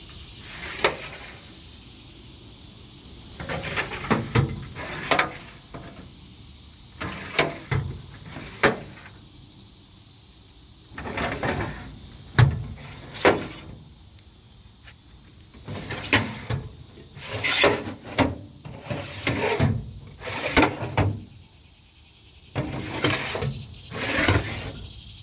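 Drawers of a Snap-on KR-562b rolling tool cart slide open and shut repeatedly, each pull a brief metallic rub and clunk, near and moderately loud, with quiet gaps between.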